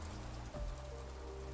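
Steady rain falling on surfaces in a video game, a dense continuous patter with low rumble underneath, holding evenly throughout with no talking.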